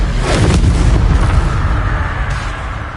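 The Incendio fire spell being cast in Hogwarts Legacy: a loud, close, roaring burst of flame like a blast, sustained for a few seconds before slowly easing off.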